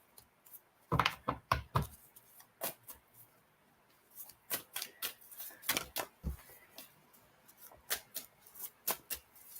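Irregular bursts of crisp riffling and clicking as a deck of cards is shuffled nearby, coming in quick clusters with short gaps.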